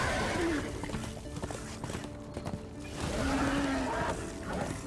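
A horse in the video game Darksiders II trots along with soft clip-clop hoofbeats under a faint game backdrop, with a brief whinny-like tone, all fairly quiet.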